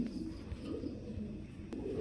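Giribaz club pigeons cooing softly and steadily at a loft, a low murmuring coo running throughout with no voices.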